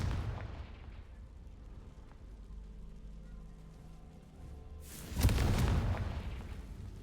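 A Confringo fire spell in Hogwarts Legacy bursts into a loud, sudden explosion about two-thirds through, after a stretch of quiet game ambience, then rumbles and fades.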